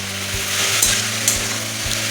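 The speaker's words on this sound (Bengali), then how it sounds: "তেল গরম হয়ে গেছে, এবার সেদ্ধ করে রাখা বাঁধাকপিটা দিয়ে দিচ্ছি। বাঁধাকপিটা একটু কষিয়ে নেব।" Boiled cabbage hits hot oil in a pan, giving a loud, steady sizzle with a couple of sharp stirring scrapes partway through, heard close up with no talking.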